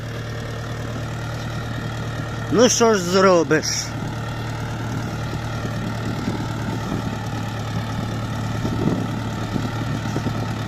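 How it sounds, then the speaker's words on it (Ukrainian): A tractor engine pulling an inter-row cultivator through muddy potato rows drones steadily nearby throughout, with a short burst of speech early on over the running motor. "Трактор вгрузає."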